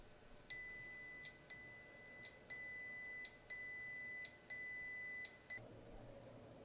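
An EL-WIFI Alert alarm indicator for humidity and temperature data loggers beeps in five steady pulses of a high two-tone chirp, evenly spaced and fairly quiet, then falls silent.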